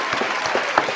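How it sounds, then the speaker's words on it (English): A short, close burst of applause from a crowd, dense clapping for about a second. "I forgot my my applause here."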